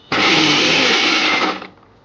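A mixer grinder grinding coconut and cashew paste whirs loudly at full speed for about a second and a half, then quickly winds down to silence.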